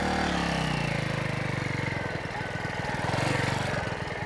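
A Mutt Mongrel 250 motorcycle engine pulls away, its steady mid-pitched single-cylinder throb rising in pulses as the bike moves off, loud and close throughout.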